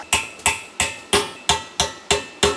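Close, loud hammer blows pound a flat metal patch welded onto a round metal tube, eight sharp ringing strikes at a steady, even rhythm with short decays between them.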